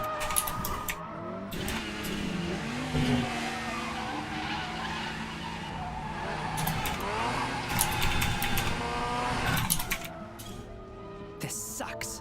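A race car in a video game skids through a run of hairpin turns, loud tire squeals and screeching slides over a steady engine drone, with a voice talking over it at times.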